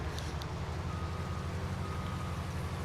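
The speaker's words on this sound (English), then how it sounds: "Yeah, it's raining," Steady rain falls in the video game Farming Simulator 19, a soft, even hiss of rainfall over a low rumbling background, faint and continuous throughout.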